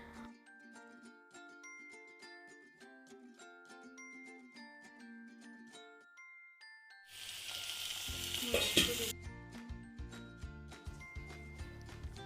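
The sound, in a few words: pointed gourd (potol) frying in oil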